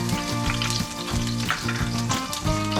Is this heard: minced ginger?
yes